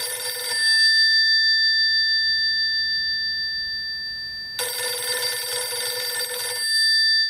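A telephone rings with an electronic tone, two loud bursts separated by a pause, clear and close with no voices.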